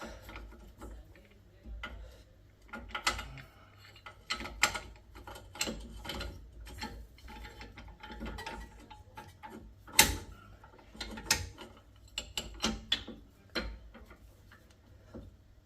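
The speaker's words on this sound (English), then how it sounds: "And then I'm gonna use this puller." A puller works on the front control arm of a Mercedes W221 S600, giving a string of sharp metallic clicks, ratcheting ticks and knocks in irregular bursts, close up and fairly loud, with no talk.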